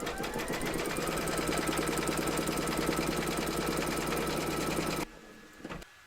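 A sewing machine stitches a quilted panel, securing the batting along a line round the design, its needle running in a fast steady rhythm for about five seconds before stopping abruptly, followed by a brief faint clatter.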